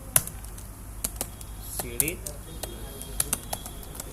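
Computer keyboard keys tapped in short irregular bursts while entering Linux terminal commands, fairly close and crisp, with brief speech and faint bird coos in the room.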